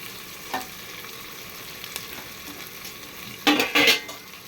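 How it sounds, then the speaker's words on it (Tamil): Onions frying until crisp for Madurai chicken biryani, a quiet steady sizzle with occasional stirring scrapes and a louder burst of stirring and spatula clatter near the end. "நல்லா வெங்காயம் மொறு மொறுன்னு வேகணும்"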